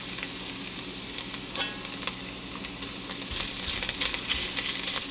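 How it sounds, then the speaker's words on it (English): Onions and garlic sizzle and crackle as they sauté in fat in a pot, with stirring scrapes and a steady frying hiss that swells louder toward the end; no talking. "Saute this for a little bit, maybe a minute or two."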